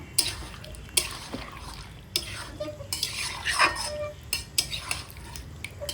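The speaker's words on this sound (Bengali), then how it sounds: "তো দেখো আমি এখন সুন্দর করে কষিয়ে নিচ্ছি তোমরাও কিন্তু এরকমভাবে কষিয়ে নেবে মাংসটা" Meat for a potato and meat curry is stirred and sautéed in a pan, with distinct scraping strokes of a spoon about every second over a low sizzle, heard up close.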